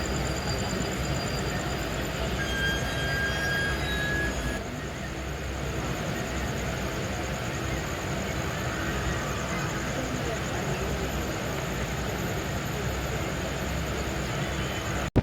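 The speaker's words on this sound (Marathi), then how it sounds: "तर दिवा जंक्शन स्किप करून आपली ट्रेन मेन ट्रॅकवरती लागलेली असते." Jan Shatabdi express from Mumbai towards the Konkan running on the main track past Diva Junction, a steady onboard rumble and rattle of the coaches, continuous and even, with faint voices in the carriage.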